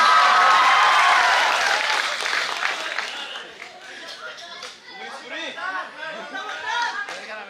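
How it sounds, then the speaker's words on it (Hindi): An audience at a college freshers' meet claps loudly at first, then the applause thins into scattered clapping and crowd chatter with laughter and voices. "अरे अरे जोर से ताली बजाओ रे।"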